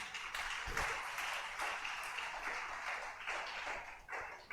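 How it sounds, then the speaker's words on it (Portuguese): A church congregation applauds during a sermon, filling the space with sustained, fairly distant clapping from many hands that swells and holds for several seconds. "Aplauda, crente."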